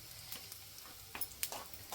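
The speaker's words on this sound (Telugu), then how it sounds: "డీప్ ఫ్రై చేసుకున్న కాకరకాయ అందులో వేయించి" Deep-fried bitter gourd pieces go into a pan with a spoonful of oil and tempering spices: dried red chillies and curry leaves. The sizzle is faint and steady, broken by a few soft stirring knocks and scrapes.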